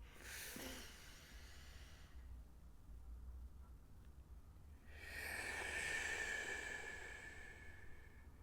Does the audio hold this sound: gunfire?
no